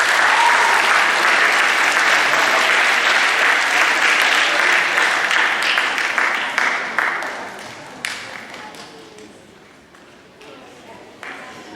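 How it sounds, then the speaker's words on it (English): Loud applause from an audience at a 2018 junior high awards ceremony, honoring the 2017-18 cross country team; dense clapping starts near and full, then thins and fades over about twelve seconds into scattered claps. "One more round of applause."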